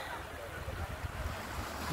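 Seaside surf washes in as a steady, broad rush with wind buffeting the microphone, continuous and close for a couple of seconds with no speech.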